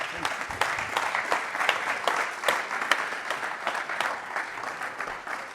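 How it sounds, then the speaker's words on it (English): A crowd applauds throughout at a sports coach's season-ending appearance, with sustained, fairly loud clapping and a few sharp individual claps standing out. "Let's give him another big round of applause."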